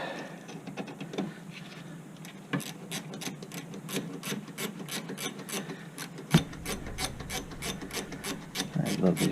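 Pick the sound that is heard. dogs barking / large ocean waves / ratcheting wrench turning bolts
ratcheting wrench turning bolts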